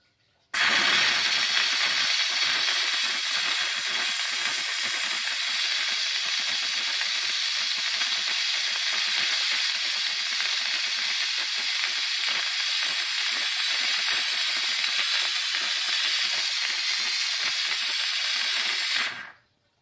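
A McCulloch MC1385 steam cleaner releases a loud, close, continuous hiss and sputter of steam for nearly twenty seconds, with no voices over it, and then cuts off abruptly.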